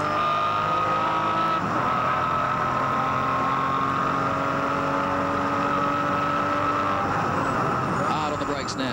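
A Mitsubishi Lancer Evo 5 race car at the 2002 Sandown 500 howls down the straight, its engine note rising and dropping as it shifts through the gears, loud and close with a commentator talking over it.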